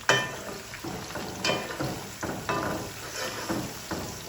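Green chili roasting dry in a pan on a home stove, a steady close sizzle and crackle with soft scraping and stirring strokes that recur about once a second, no voices.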